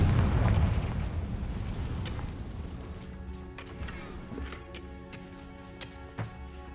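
The Confringo fire spell bursts in a wizarding video game, one loud, deep blast at the start that rumbles and fades into a long tail with scattered crackles and small pops.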